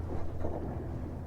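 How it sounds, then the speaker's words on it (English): Cold winter wind blows steadily outdoors by the water while fishing for bass and stripers, a dense low rumbling buffet against the microphone that holds for the whole moment with no voices. "Boy, that wind. It's really blowing."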